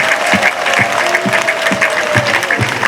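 Crowd applause at an outdoor speech by the head of state in Bubanza, a steady wash of clapping with rhythmic beats throughout, no speech over it.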